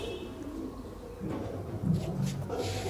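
A flock of pigeons with young chicks keeps up a low, overlapping cooing close at hand, swelling slightly toward the end.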